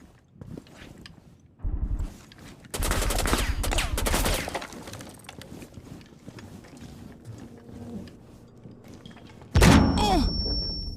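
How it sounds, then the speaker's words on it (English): Gunfire erupts in a video game, with bursts of rapid shots and thuds over a low background rumble. A loud final blast rings out near the end. "Gunshots."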